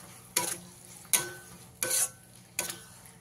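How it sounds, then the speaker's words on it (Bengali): Tomato paste is stirred and sautéed in a pan with four evenly spaced scraping strokes of a spatula against the metal. A quiet sizzle runs underneath. "টমেটো বাটাটা দিয়ে খুব ভালো করে কষিয়ে নিতে হবে"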